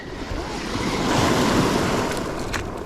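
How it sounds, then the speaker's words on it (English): Ocean surf rolls and breaks on a salmon-fishing beach, a broad steady wash of water that swells in the middle and eases off, with some wind rushing over the microphone and no voices. "I'll just wait for a wave."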